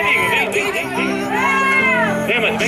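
A crowd at a lively gathering in Mooca, São Paulo, cheering and whooping near and loud, with excited shouts and chatter layered over it and voices talking through the whole stretch.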